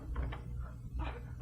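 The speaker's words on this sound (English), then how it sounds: "Open the door." An office door opening as a sound effect in a 1948 Abbott and Costello radio comedy: a few soft, close clunks and scrapes from the latch and hinge, quiet and brief, with no talking.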